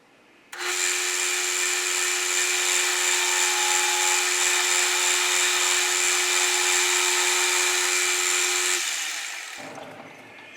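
A milling machine cuts metal with a 5/8-inch two-flute end mill on a long stick-out, giving a steady high-pitched whine with a constant ringing tone for about eight seconds, then it winds down. No one speaks.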